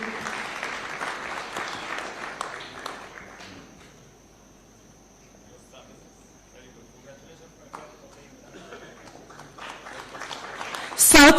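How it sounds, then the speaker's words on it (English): Ceremony guests at a taxpayers' awards event at State House Nairobi clap in a dense burst that thins out after a few seconds into scattered claps and room murmur, before a brief sharp sound at the very end. "The next category, top taxpayer regional category, Nairobi Region, Wiyok Services Kenya Limited. A round of applause, kindly."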